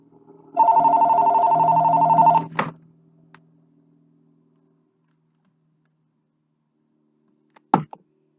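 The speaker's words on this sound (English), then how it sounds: "My phone's ringing, of course." A phone rings once in a steady buzzing tone for about two seconds, then stops, leaving near silence before a brief knock or thud.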